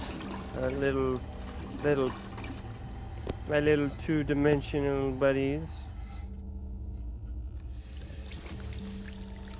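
Water pours steadily in BioShock Infinite, a gushing stream running beneath a voice and continuing on its own once he stops talking.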